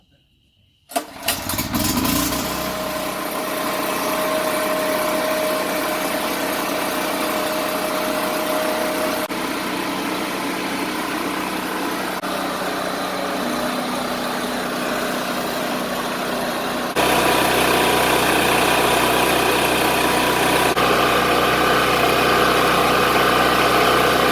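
Firman 3650 portable generator starting after a short silence, then running at a steady loud drone for about twenty seconds, with a step up in level near the end.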